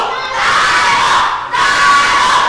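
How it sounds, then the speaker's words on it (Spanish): Lucha libre wrestling crowd at an anniversary show shouting and cheering in support, a loud dense roar of many voices that surges continuously with a brief dip midway. "Y ahí escuchamos los gritos de la gente en apoyo."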